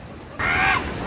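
A bird calls beside a waterfall in the Grand Canyon oasis along Thunder River, one sustained call lasting under half a second over steady rushing water.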